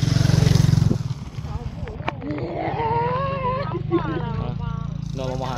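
A loud engine rumbles at first, then a motorcycle revs and whines nearby while people talk and exclaim over it.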